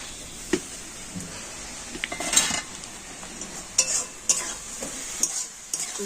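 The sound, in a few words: stirring cooking vegetables in a pan after removing the lid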